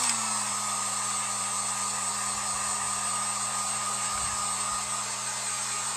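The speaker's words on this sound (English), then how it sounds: "I'm going to take my heat gun. I'm going to dry this." Heat gun drying paint on a DIY pumpkin craft, a steady loud blowing whir with a constant hum, running unbroken throughout.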